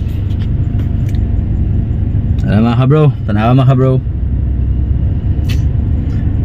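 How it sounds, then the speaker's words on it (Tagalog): Heavy city traffic in Cagayan de Oro City, a steady low rumble of cars and engines running throughout, with someone talking close by over the middle of the stretch. "Grabe ka traffic mga bro."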